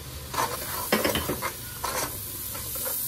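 Spices frying in a pan for spiced potato rice, stirred with a utensil in a few scraping bursts over a steady low sizzle, close and moderately loud, with no talking.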